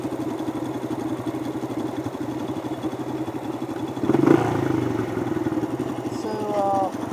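A dirt bike engine idles steadily throughout, a close, even mid-pitched putter with a brief louder rise midway, with people talking over it.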